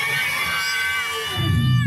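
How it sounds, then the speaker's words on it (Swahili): A church congregation at an outdoor healing crusade in Kirungu erupts together, with voices cheering, whooping and shouting over what may be clapping. The loud, sustained crowd noise swells further toward the end. "Mpa Yesu makofi yake mazuri"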